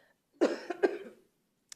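A person coughs in a short fit during a governing board meeting, with two or three harsh bursts close to the microphone, then silence.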